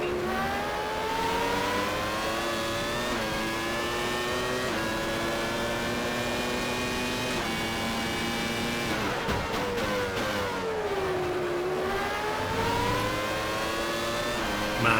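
Screaming 1996 Formula One engines in the Automobilista sim at Albert Park, a steady high-pitched whine with harmonics rising and falling through gear changes, several cars close together, loud and continuous with no talk.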